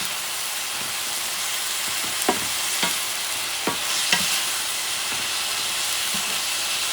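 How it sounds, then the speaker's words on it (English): Close, steady sizzle and hiss of chuck steak fried rice with chilaca chili pepper being stir-fried, with a few sharp spatula scrapes and knocks against the pan. "Then I start mixing everything together."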